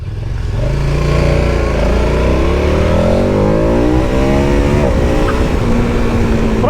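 A KTM 1290 Super Adventure S motorcycle accelerates hard in third gear, its engine loud and close, rising steadily in pitch with a brief dip midway before climbing again.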